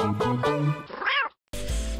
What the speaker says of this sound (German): Mietz, wo bist du?